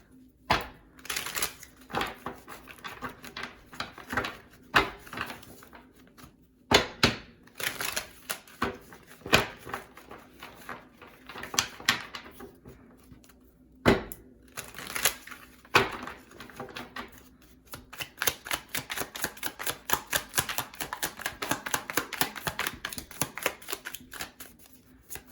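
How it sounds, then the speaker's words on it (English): A worn tarot card deck being shuffled by hand, with repeated papery riffles, slaps and rustles in uneven bursts, fairly close and clear, with no talking over it. "I forgot how worn this deck is. I haven't shuffled it with it in a while."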